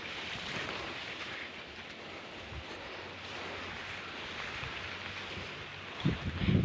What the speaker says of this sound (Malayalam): കാറ്റ് വീശുന്നുണ്ട്